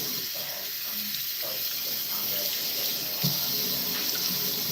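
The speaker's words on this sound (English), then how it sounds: "Washing this off my face." Water runs steadily from a tap while someone washes their face at a sink, a continuous hiss with faint splashes, close and moderately loud with no talking.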